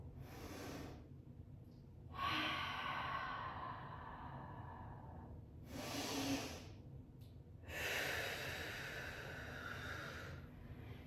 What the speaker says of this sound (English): take a few deep breaths in through the nose